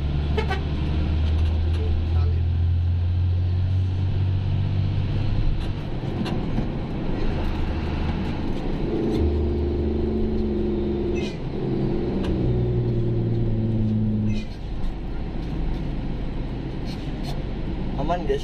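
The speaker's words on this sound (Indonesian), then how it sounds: "Di depan kita ini banyak mobil motor berat guys" Traffic on the central Trans-Sumatra highway, with heavy trucks and cars rumbling past and several long vehicle horn blasts, some overlapping, close and loud, while someone talks over the road noise throughout.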